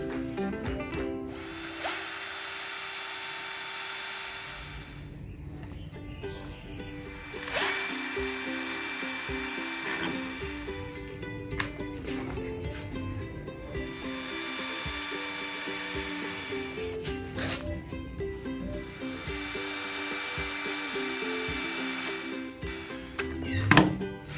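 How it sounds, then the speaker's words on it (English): A power drill whines in several long bursts with short pauses between, close and steady, with occasional thunks as it bores pilot holes for nails into a wooden canvas frame. "We drill pilot holes for the nails."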